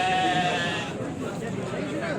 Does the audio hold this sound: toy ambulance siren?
no